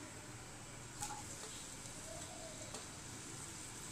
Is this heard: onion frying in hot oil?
yes